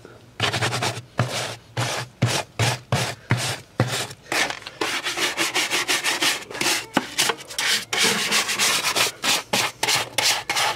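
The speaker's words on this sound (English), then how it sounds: "just get a stiff brush and work it in" A stiff brush scrubs hard against a Jeep's dirty wheel well in quick, steady back-and-forth strokes, each rasping stroke close, loud and separated by short pauses.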